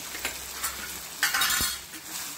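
Beetroot fry being stirred in a pan after amchur powder and crushed peanuts go in, giving light scraping and clinking strokes over a soft sizzle, close and fairly quiet, with no talking.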